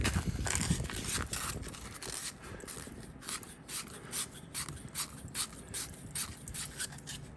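Sandpaper is rubbed by hand over a steering part of a 1968 Lincoln Continental in quick, rhythmic back-and-forth strokes, a close, dry scratchy rasp repeating steadily with no talking.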